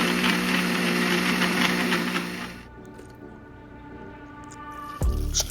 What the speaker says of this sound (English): Cover it and blend it.